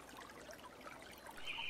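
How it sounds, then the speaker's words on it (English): Flowing water trickles softly in the Unturned video game's Washington State map, a faint, steady stream with no voices. "I'll turn up the volume here so you can hear the water."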